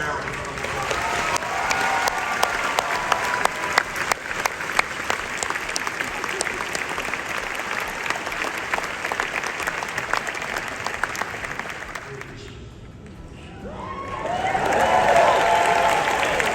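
Graduation audience applause at a university ceremony, a long, loud stretch of dense clapping from a large crowd that dies down briefly near the end before voices rise again.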